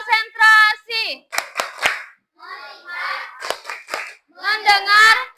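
Sharp, rhythmic hand claps in a short patterned burst, mixed with elementary school pupils chanting along in a group in a classroom.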